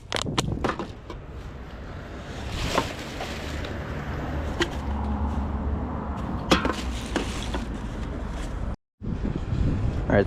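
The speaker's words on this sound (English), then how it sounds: "it's kind of windy, hopefully you can hear me." Wind blows outdoors and buffets the microphone in a continuous roar, with loud gusting bursts and a brief dropout near the end.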